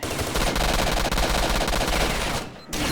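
Rapid automatic gunfire rattles on continuously during a firefight in the video game S.T.A.L.K.E.R. Shadow of Chornobyl, a dense, loud stream of shots that stops briefly near the end before resuming.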